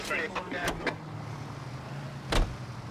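Car driving in the video game L.A. Noire, a steady low engine hum running throughout, with a few short clicks and knocks early on and a brief louder thump near the end.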